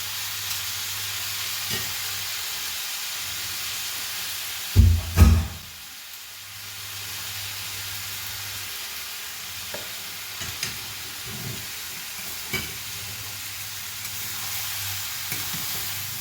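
Jackfruit pieces fry in hot oil for jackfruit chips, giving a steady, close sizzle with a brief loud clatter of stirring partway through and a few scattered clicks.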